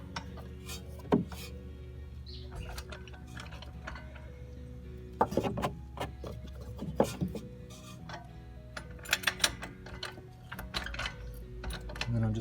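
A car jack lowers the rear suspension of a 2014 Ford Fusion with sparse, fairly quiet mechanical clicks and ratcheting knocks. Scattered metallic taps and clunks come from close by against a low background hum.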